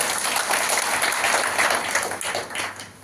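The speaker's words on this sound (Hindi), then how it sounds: "सभी के लिए एक जोरदार ताली।" Audience applause at a motivational talk, a dense, steady wash of many hands clapping, fairly loud and close, tapering slightly toward the end.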